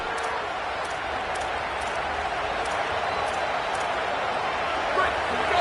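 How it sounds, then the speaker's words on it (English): Football stadium crowd in an FSU college game roars continuously for its defense in the red zone, a dense, loud wall of cheering that swells slightly near the end. "this crowd imploring its defense to stand firm"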